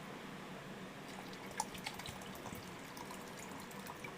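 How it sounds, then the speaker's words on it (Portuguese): Water is poured into a toy blender, heard as a faint trickle with a few soft splashes and drips in a quiet room. "Bota a água ali direto."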